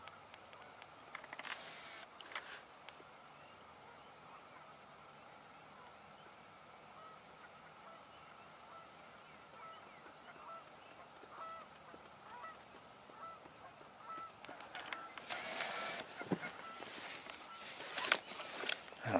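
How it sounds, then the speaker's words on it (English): Canada geese honk from a distance on an outdoor wetland tour with frogs nearby, faint at first and then swelling into a louder cluster of calls toward the end. "I hear Canada geese."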